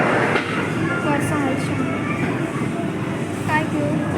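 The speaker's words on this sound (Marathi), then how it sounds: "आदू बसले ट्रेनमध्ये हे बघा आदूचे पप्पा पण बसले" Steady rumble and rattle of a moving train carriage, with voices talking over the continuous rolling noise.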